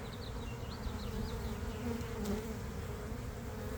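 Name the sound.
swarm of honey bees buzzing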